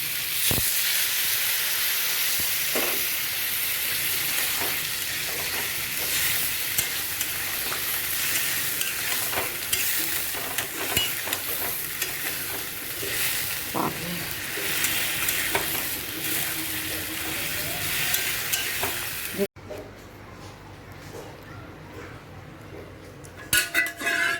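Cauliflower curry sizzles and bubbles loudly in a pan just after water is poured in, a dense steady hiss with scattered stirring clinks that drops away abruptly near the end.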